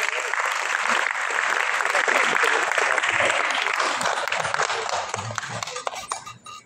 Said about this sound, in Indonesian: Boleh kita minta tepuk tangannya sekali lagi?